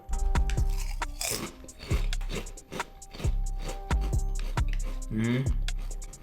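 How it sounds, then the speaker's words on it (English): Jalapeno chicken protein chips are bitten and chewed close up, giving a run of loud, sharp crunches in a quick steady rhythm, one after another. "That's a good crunch."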